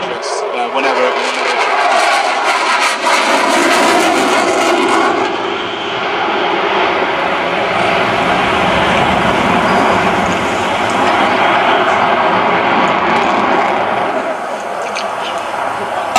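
A Eurofighter Typhoon fighter jet flies inverted at the Biggin Hill air show, its engine roar loud and sustained throughout, with a commentator talking over it.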